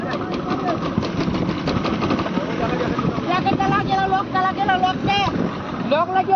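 A trawler boat's engine drones steadily on open water with wind buffeting the microphone, while several people talk loudly over it throughout.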